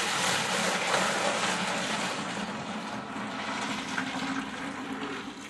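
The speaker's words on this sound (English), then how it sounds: "All I'm going to do is take the pot and I'm going to dump this right in my bucket right here." Homebrew wort dumped from a brewing pot into a plastic bottling bucket, a loud, continuous rushing splash of liquid that holds steady from start to finish with no voices.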